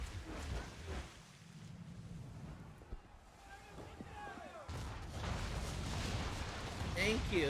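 Cannon fire during a naval battle in Assassin's Creed 3 Remastered: dull booming shots over steady wind and water noise, with someone talking throughout.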